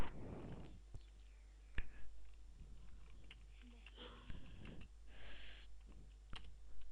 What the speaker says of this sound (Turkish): şifremizi yazalım